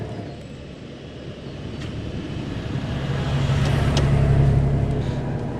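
A 4WD car crawls slowly along rutted sand tracks on Fraser Island, its low engine rumble building gradually and growing louder toward the end, steady and close, with no talking.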